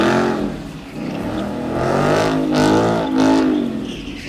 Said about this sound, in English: There's a lot of torque and tire shredding power in that 5-liter motor.